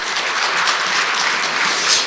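Audience applauding at a business CEO forum, a steady, dense patter of clapping hands lasting a couple of seconds at moderate distance, with no voices over it.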